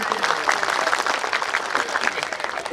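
An audience claps together at a public gathering, a dense, steady burst of applause that carries on evenly throughout.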